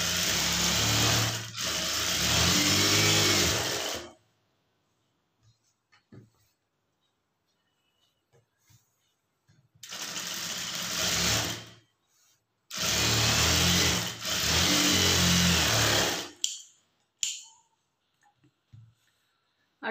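A sewing machine stitches along the edge of a blouse lining in three loud, close bursts of rapid whirring, separated by quiet pauses with small handling clicks.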